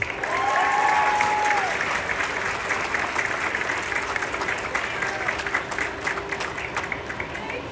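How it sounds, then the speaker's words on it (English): At a graduation ceremony the crowd breaks into full, steady applause, a thick wash of many hands clapping throughout, with a few faint voices and cheers mixed in. "Big round of applause for Dora Armas."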